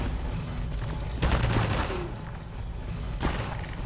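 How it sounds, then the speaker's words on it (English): Shotgun blasts in the video game Half-Life 2, two loud booming shots about two seconds apart over low game ambience. "shotguns are just so awesome"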